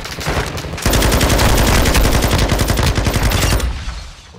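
Rapid automatic gunfire rattles in a video game, a dense, loud burst of evenly spaced shots lasting about three seconds after a short lead-in, then tapering off.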